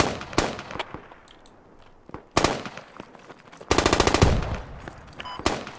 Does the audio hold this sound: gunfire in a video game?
yes